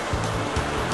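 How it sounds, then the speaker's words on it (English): Pabineau Falls roars as a dense, continuous wash of falling water, loud and close, with surging low rumbles and no voices. "This is Pabineau Falls"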